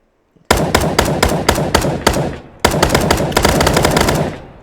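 Two long bursts of rapid automatic fire from an M4 rifle in the Minecraft Timeless and Classics gun mod, each a loud, steady string of sharp shots with a brief pause between them.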